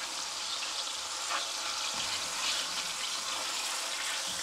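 Turmeric and pepper frying in a pan at home, giving a steady, close sizzle with faint clinks, with no voices.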